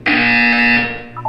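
A loud, steady electronic buzzer from the video game Portal 2 drones for about a second, then tapers off into a brief, softer tone.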